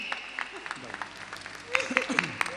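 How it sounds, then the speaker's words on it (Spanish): Scattered clapping rises from an audience at a children's TV channel programming launch event, sparse and moderately distant, mixed with voices and background chatter, growing a little stronger toward the end. "Fuerte ese aplauso, por favor"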